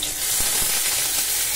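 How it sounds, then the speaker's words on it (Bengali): Chopped garlic hitting hot oil in a pan, a close, steady crackling sizzle with two soft thumps early on, no talking. "এখন দেখো আমি আগে রসুন কুচিটা ফেলে দিচ্ছি তেলে"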